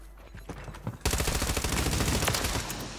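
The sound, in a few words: gunfire in the video game Warzone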